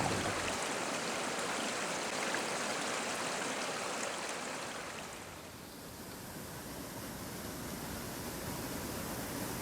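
Powerful river water flowing steadily near what becomes Montréal on the Saint-Laurent, a broad continuous rushing wash that softens slightly midway, with no voices.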